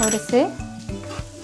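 Garlic, salt and black pepper are stirred in a pan, with a few scrapes and light clinks over a faint sizzle, while someone speaks briefly at the start.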